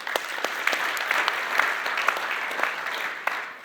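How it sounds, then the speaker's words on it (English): An audience in a room at an investing talk applauds a man named Rick, a steady wash of many hands clapping at moderate distance with scattered sharper claps, continuing evenly without speech. "Give him a round of applause, guys."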